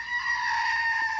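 A one-eared goat gives a single sustained, nasal bleat at moderate distance, wavering slightly in pitch for about a second over a quiet background.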